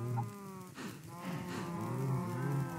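Cows moo in a Minecraft farm built just for cattle, several long low calls overlapping continuously at moderate loudness with no talking.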